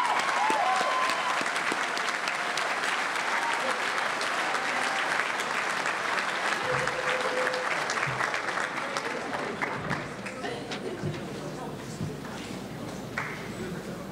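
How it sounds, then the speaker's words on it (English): Sustained applause and cheering from the crowd at a 2018 high school commencement ceremony, a long steady roar of many hands that slowly thins out, with some voices mixed in. "Please give her a big round of applause."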